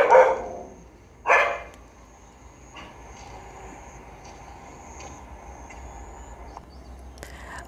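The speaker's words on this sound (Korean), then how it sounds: "강아지도 짖고 고양이도 있고 넓은 마당도 있고 그렇네요." A dog at a rural country house with a wide yard barks twice, loud and fairly near, then quieter outdoor ambience with a steady high tone and a few faint distant sounds.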